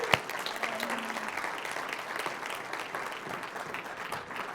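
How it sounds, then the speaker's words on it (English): An audience claps enthusiastically at a community gathering, steady dense applause from a crowd that starts with a sharp clap and holds for several seconds, with faint voices underneath. "So give Wileen a big round of applause."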